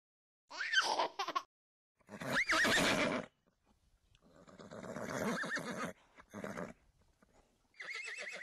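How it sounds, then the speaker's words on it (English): A horse neighs and whinnies in several separate calls with gaps between them, fairly close and clear, with no talking. "Horse."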